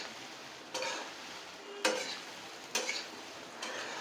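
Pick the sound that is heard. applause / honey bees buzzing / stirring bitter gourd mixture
stirring bitter gourd mixture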